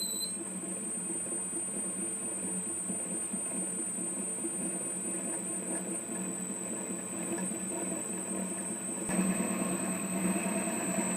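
The electric motor of a prototype PTO (power take-off) generator runs with a steady droning hum and a thin high whine, its tone shifting slightly near the end.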